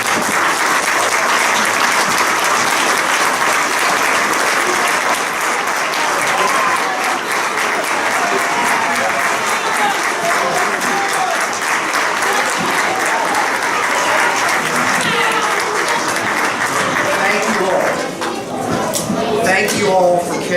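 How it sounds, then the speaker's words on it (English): A sustained round of applause from an audience at a school sports awards event honoring graduating players, loud and continuous throughout, with a voice emerging near the end. "accept one more round of applause"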